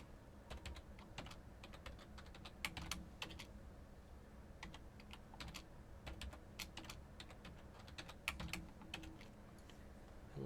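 A password is typed on a computer keyboard in quiet bursts of soft key clicks with short pauses between runs, close and faint with no talk.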